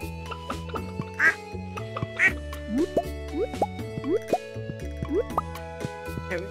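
Cartoonish duck quacks from the Stardew Valley farming game, several short calls at an uneven pace, mixed with plopping and dripping game sound effects and light background music.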